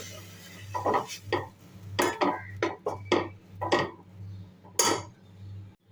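Rice flour is mixed into a pot with the stove off, heard as a series of irregular scraping and clanking strokes of a utensil against the vessel, close and fairly clear.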